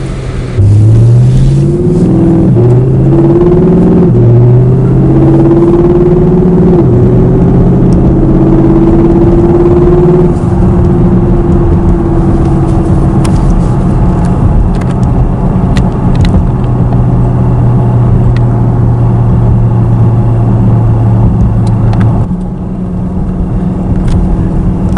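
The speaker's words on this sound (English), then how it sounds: "you can hear the exhaust quite well in the side of this car" A 2019 Porsche Panamera GTS drives hard, its exhaust droning loud and steady from inside the cabin. The engine note climbs in repeated rising sweeps through the gears, then holds at a constant cruising rumble. No one talks.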